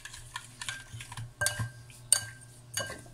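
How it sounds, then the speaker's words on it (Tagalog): Raw chicken being mixed with salt in a dish, giving soft irregular clinks and scrapes of a utensil against the bowl with a low hum behind. "Mix, mix, mix."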